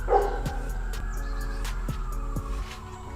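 A dog barks and yips a few times at a moderate distance, short sharp calls over a steady low hum and faint wavering sirens.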